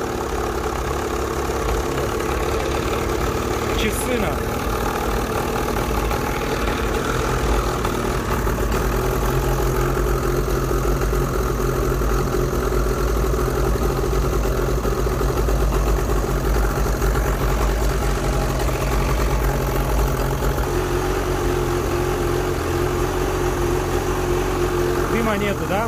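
A Buran snowmobile engine starts and idles with a steady low rumble and knocking throb while someone speaks briefly in Russian over it.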